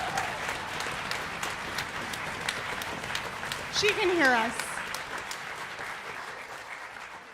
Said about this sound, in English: One more big round of applause for Anna.